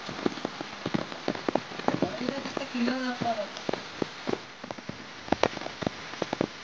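Rain falling at Hadagarha Dam in Kendujhar, scattered drops pattering and tapping close by on surfaces, irregular and crackly, with a voice briefly speaking over it midway.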